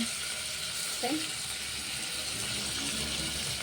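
Tomatoes fry in a hot pan with a continuous broad hiss and sizzle, fairly loud and steady, with a brief murmur of voice partway through.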